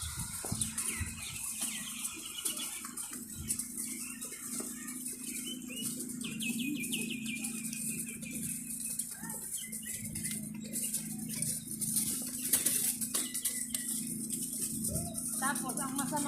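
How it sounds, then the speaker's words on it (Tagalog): Many birds calling together in a busy chorus with occasional wing flaps, heard outdoors in Israel, continuous and moderately near, with people talking faintly in the background. "Ay, ang daming Ang daming ibon."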